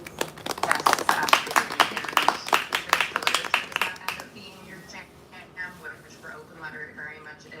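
Audience applause at a Sant Jordi literary event honoring the Institut Ramon Llull, with a burst of scattered clapping for about four seconds that thins out into light murmuring and a few lingering claps.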